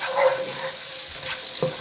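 Onions dropped into hot oil with cumin seeds over medium-high heat, setting off a steady close hiss and sizzle with light stirring scrapes, with no talking.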